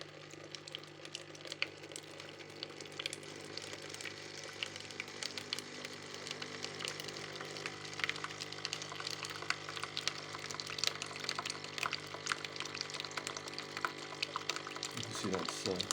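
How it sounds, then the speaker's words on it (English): Tassimo coffee machine flushing hot water through its system during a descaling cleaning cycle, a steady loud whirring pump and rushing water noise that runs without a break for the whole stretch. "now it's going to do a cycle of just flushing water through"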